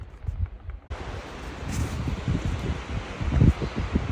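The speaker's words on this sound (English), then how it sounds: "Love to hear the wind in the trees." Wind moving through trees along a mountain trail on Utah's Mt. Nebo in summer, a steady rushing whoosh that rises after a quieter start and carries low gusty rumble throughout, with no voices.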